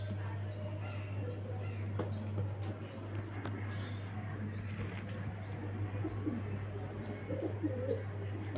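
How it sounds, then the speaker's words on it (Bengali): Pigeons cooing softly amid a low, steady hum and faint wing and movement sounds, the calls fairly quiet and scattered rather than prominent. "এই যে ফ্রেন্ডস পায়রা কোয়ালিটি দেখুন, খুব সুন্দর কোয়ালিটি কালারের পায়রা"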